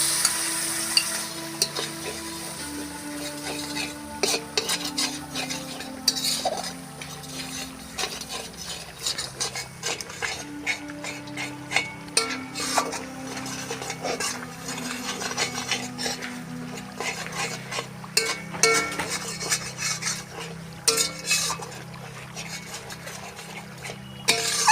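Yogurt stirred into a frying prawn curry masala in a village kitchen, steady sizzle under repeated scraping and clinking of a utensil against the pan, lasting throughout at moderate volume.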